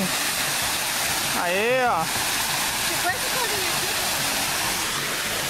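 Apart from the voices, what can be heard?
waterfall rushing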